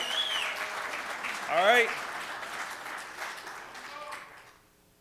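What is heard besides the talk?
audience applause for the Eagles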